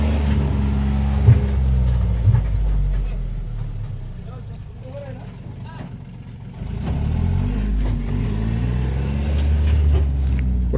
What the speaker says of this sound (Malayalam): അപ്പോൾ അടുത്ത സൈറ്റിൽ ഉള്ളി കൊണ്ടുവരാനുള്ള വണ്ടിയാണ് പോണത്